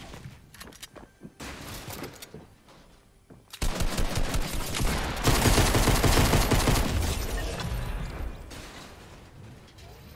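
Rapid automatic gunfire in a Fortnite match, dense bursts of shots that swell louder midway and continue in a sustained stream with mechanical clatter, no talk.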